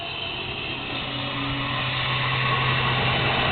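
A propane tank feeding a freshly lit Iron Pony barbecue gives off a steady, close broadband hiss that grows slightly louder as the gas boils off into vapor, with a low hum beneath.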